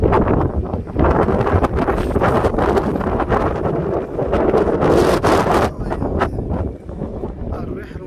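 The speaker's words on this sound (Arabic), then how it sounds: "الريح المشحن الريح قوي" Strong wind buffets the microphone during heavy rain in Al Hoceima, with loud, roaring gusts that swell and fade over several seconds. Someone talks throughout.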